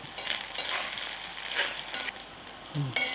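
Chicken thokku pickle frying in oil over a medium flame, a continuous close sizzle and crackle with stirring scrapes and a faint voice near the end.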